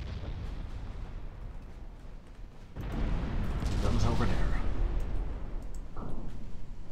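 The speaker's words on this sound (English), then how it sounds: "Torpedo hits." In the naval battle game Ultimate Admiral Dreadnoughts, a torpedo hits and sets off a deep rumbling explosion that swells midway and lingers, with a rolling low boom under a constant noisy background.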